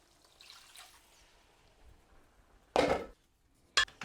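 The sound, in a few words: warm water being poured into a cooking pot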